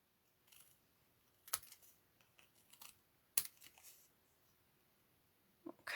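Paper snips cutting through paper while making Christmas cards: a handful of quiet, crisp snipping clicks spaced irregularly, with soft rustling in between in an otherwise quiet room.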